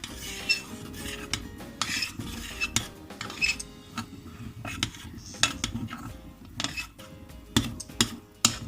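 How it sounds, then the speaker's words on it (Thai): A utensil stirring pork steak mustard sauce in a pan, with repeated scraping and clinking strokes against the metal in an uneven rhythm, close and fairly loud, alone without talk. "เราก็จะคนเขานะคะ"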